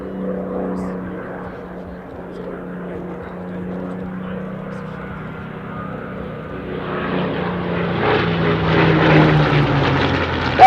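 A Spitfire and a Hurricane cross over crowd centre at the 2018 Dunsfold Wings and Wheels airshow. Their piston propeller engines make a droning roar that swells louder as they pass, with commentators talking over it.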